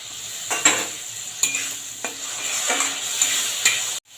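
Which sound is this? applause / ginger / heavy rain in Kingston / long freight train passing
ginger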